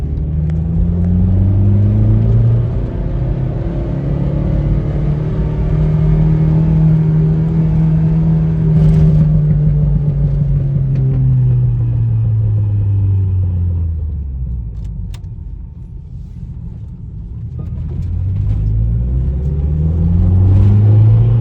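A turbocharged minivan engine revs hard in first gear at around 5,000 RPM, a loud, steady droning roar with rising and falling pitch sweeps. It sustains, dips briefly, then climbs again.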